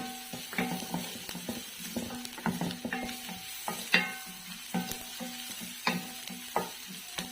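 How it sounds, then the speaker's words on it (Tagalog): Onion, ginger and garlic sautéing in a pan for a beef papaitan stew, a steady close sizzle broken by repeated clinks and scrapes of a utensil stirring against the pan, with no talking. "una kong igigisa, pagsasamahin ko na yung sibuyas, ay sibuyas, luya at bawang"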